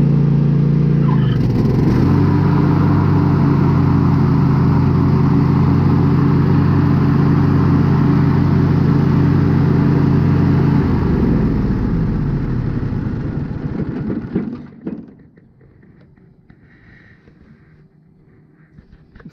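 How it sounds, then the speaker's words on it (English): Engine of a Craftsman T240 riding lawn tractor running steadily, then shut off around the eleven-second mark, its drone winding down over a few seconds to near silence, close and loud with no speech. "let's see what happens when I simply turn off the engine."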